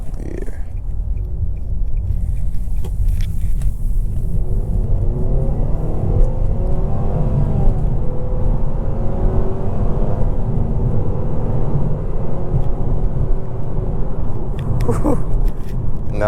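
A 2024 Nissan Sentra SR in sport mode accelerates uphill, its engine droning and climbing steadily in pitch under constant loud cabin rumble, heard from inside the car with a brief voice near the end.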